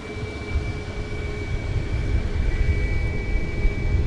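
An F-15 fighter jet on the north side of Portland International Airport: a broad, steady jet roar with a faint whine that slowly swells in loudness, heard from some distance with no speech.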